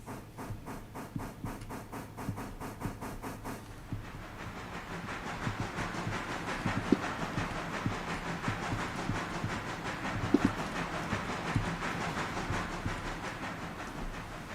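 Train in Railroader gathering speed: a rhythmic chugging beat at first, then a broader, louder rumbling roar with faint clicks, steady and without speech.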